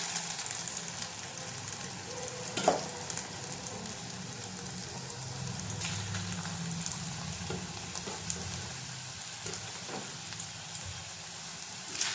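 Leftover roti mixture frying in oil in a kadai, a steady close sizzle with occasional louder spits and stirring clatter, no talking.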